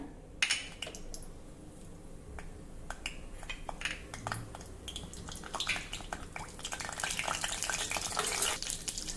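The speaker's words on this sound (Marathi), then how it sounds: "तेल गरम झालं की त्यामध्ये जिरं मोहरी घालूया।" Cumin and mustard seeds crackle and sizzle in hot peanut oil, with scattered sharp pops and spits over a steady fry that grows busier and louder toward the end, with no talk.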